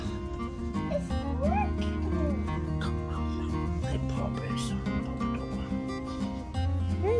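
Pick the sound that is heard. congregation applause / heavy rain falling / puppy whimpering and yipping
puppy whimpering and yipping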